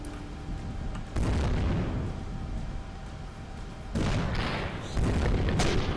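Enemy ship weapons fire in the space game Avorion, heavy booming blasts arriving in several separate bursts with rumbling decay between them, loud and without talk.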